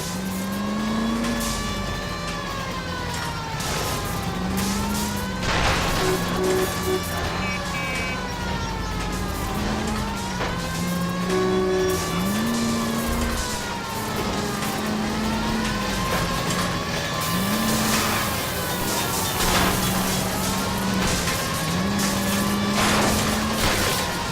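A runaway streetcar in a police chase in L.A. Noire, heard as a loud, steady vehicle rumble under a wailing police siren that rises and falls repeatedly throughout, with occasional sharp bangs and clatter.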